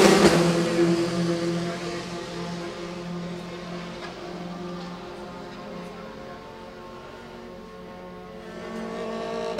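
A Formula 4 race car at the South East Asia Championship runs down a long one-kilometre straight, its steady engine drone holding a high pitch and fading slightly before swelling again near the end.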